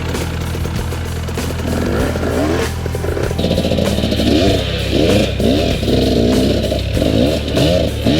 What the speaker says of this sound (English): I gave Megs my helmet cam when she rode through some of the incredibly slippery, rutted single track at CALABOGIE